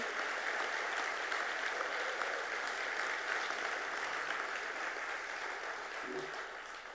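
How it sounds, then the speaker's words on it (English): A large audience at a project delivery awards ceremony gives sustained applause for an honoree, an even, dense wash of clapping heard at a moderate distance that holds steady throughout and fades slightly at the end. "Let's give Michael and CHHS a big, round of applause"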